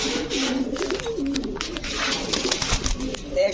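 A jet-black caged pigeon gives a low, warbling coo that rises and falls over a few seconds, close by, with scattered clatter and rustling in the cage behind it.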